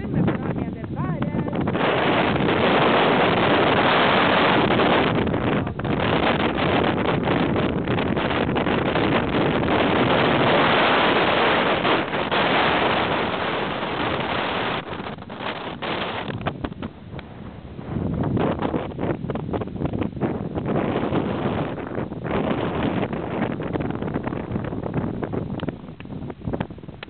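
Heavy wind on the Grønlihalsen mountaintop at 587 m roars and buffets the microphone almost continuously, easing briefly partway through, then gusting again with crackling bursts.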